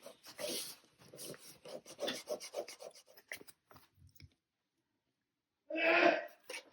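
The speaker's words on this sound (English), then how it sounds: "Oh, there's Mr. Possum's nightly sneeze" Scratchy rubbing and rasping sounds, a short quiet gap, then one sharp, brief sneeze from a possum nearby.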